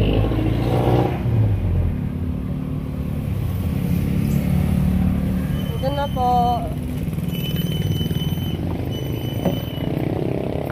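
A tricycle motor runs steadily on a trafficky road in Nasugbu, a loud continuous engine drone with passing vehicle noise and a few brief horn-like tones, while a person speaks briefly over it.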